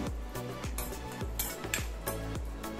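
Cashew nuts roast in ghee in a pan for javvarisi kesari, a spoon clinking and scraping against the metal in a regular rhythm of about one stroke every third of a second over a faint, quiet sizzle.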